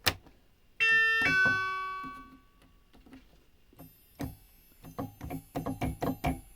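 Thin, bright tones from a Yamaha CS15 analog synthesizer through a high-pass filter, low end stripped away: a brief ringing chime, then sparse clicks building into a quick, ticking run of high notes.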